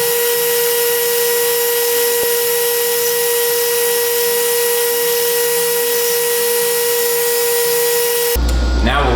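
A belt grinder fitted with a fine 320-grit belt shapes a knife blade made from shovel steel, a loud, steady, high motor whine with a tonal hum. Near the end it turns rougher and louder as the steel meets the belt.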